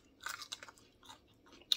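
Crisp crunching of a raw NuMex Suave Orange pepper being bitten and chewed, several irregular bursts close to the mic, with a sharp crunch at the end.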